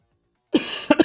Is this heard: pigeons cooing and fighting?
no